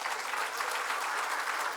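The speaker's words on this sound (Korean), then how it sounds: "박진호 목사님 박수 한번 쳐줘요." A church congregation gives a steady, even round of applause for a pastor, a dense wash of many hands clapping together at moderate volume, heard briefly with no speech over it.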